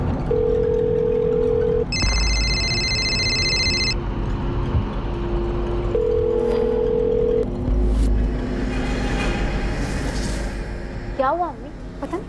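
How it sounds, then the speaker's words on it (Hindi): A telephone call ringing out unanswered, repeated ringback tones in a room with a steady rumble and someone speaking over it. "मैं तेरे अब्बू को कब से फोन लगा रही हूँ, फोन नहीं उठा रहे।"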